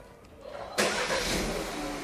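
A Peugeot 3008 engine cranks and catches at once, jumping from quiet to a loud, steady broadband idle that continues to the end.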